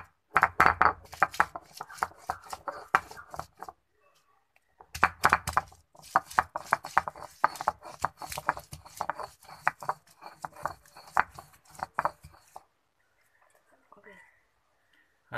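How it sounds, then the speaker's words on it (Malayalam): Chillies being crushed for a Kerala dish: sharp, rapid pounding knocks in quick bursts, pausing briefly between rounds, close and crisp. "ആദ്യം മുളകാണ് നമ്മൾ ചതച്ച് എടുക്കുക."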